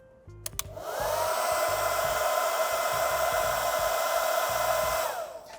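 A 1.5 kW hair dryer switched to maximum while powered from a V2L inverter on a VW ID-series electric car, a steady loud whooshing roar that starts after a click and runs evenly before cutting off near the end.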